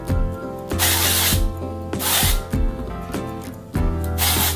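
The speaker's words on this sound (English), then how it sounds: "I'm going to use the Give Me Texture spray by VO5, and I'm just going to spritz that in" Several loud hissing bursts of VO5 Give Me Texture hair spray, close by, sprayed at the hair roots and separated by short pauses, with a low mechanical hum underneath.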